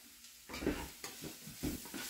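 Ground beef with celery and garlic is stirred in a hot pan, with soft sizzling and scraping strokes recurring in a loose rhythm, close and fairly quiet.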